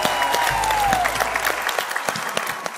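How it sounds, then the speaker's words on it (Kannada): A studio audience at a game show breaks into lively applause, dense sharp claps continuing throughout at a steady level, with a brief tone fading out at the start. "ಚಪ್ಪಾಳೆ."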